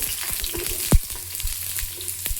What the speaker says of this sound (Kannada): ಈರುಳ್ಳಿನ ಹಾಕೋತಿದ್ದೀನಿ.